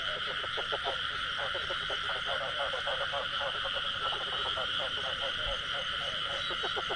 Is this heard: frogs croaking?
yes